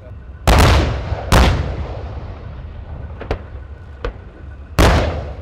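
Museum battle tanks, including a Leopard 1A5, fire their cannons out on open heathland. Three loud, sharp cannon blasts are separated by long rolling echoes, with two fainter, sharper cracks in between.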